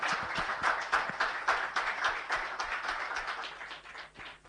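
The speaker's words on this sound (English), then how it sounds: "So firstly, a big round of applause." An audience at a JITO Hyderabad talk claps in a dense, fluttering round of applause that swells and ebbs, heard fairly close throughout.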